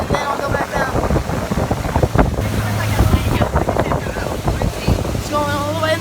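A motorboat runs at speed across the water while wind buffets the microphone and waves splash around the hull, with the engine drone held steady beneath the noise and people talking briefly over it.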